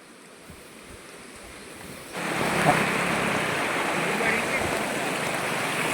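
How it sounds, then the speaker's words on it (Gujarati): A monsoon stream in the Gir forest rushes loudly close by, a dense steady wash of water that swells abruptly after a quieter start and holds, with no speech. "જો ભાઈ પાછું એક ઝરણું આવી ગયું છે"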